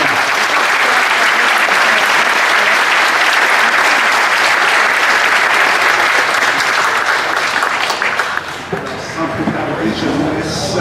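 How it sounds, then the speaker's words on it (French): An assembled audience at a Marist jubilee celebration applauds in a long, dense, steady wave of clapping that thins out near the end, leaving scattered claps and faint murmuring. "on les applaudit"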